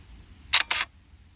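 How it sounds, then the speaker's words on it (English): An Android phone running the FV-5 Lite camera app plays a simulated shutter release, two quick bright snaps in close succession, crisp and near, against a quiet background. "we got our shutter release button"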